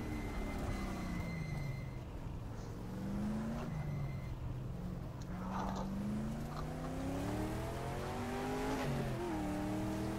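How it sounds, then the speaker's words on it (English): A race car in the GTR 2 racing game brakes into a corner at Monza, its engine note dropping and rising through repeated downshifts with engine braking, steady and close for about ten seconds. "Use a lot of engine braking in these cars."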